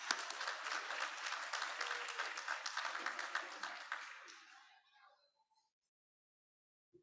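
Audience applause at a graduate orientation welcome event, a steady round of clapping that fades out gradually and ends in near silence.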